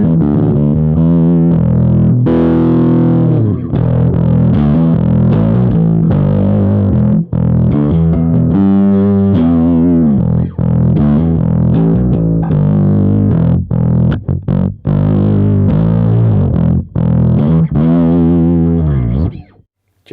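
An electric bass played through an Origin Effects Super Vintage overdrive pedal set for a '64 Black Panel character: loud, gritty, harmonically rich notes with slides and sustained lines, heard alone.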